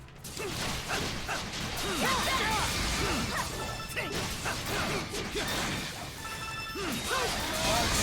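Combat in the video game Ys 9: Monstrum Nox as a dog attacks, with dense continuous crashing, whacking hits and swishing effects layered with short chiming tones, loud throughout.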